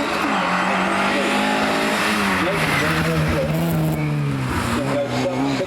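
At the Prescott speed hill climb, a race car roars past close by, its engine pitch rising and falling through the gears, with tyre squeal and a voice talking over the steady din.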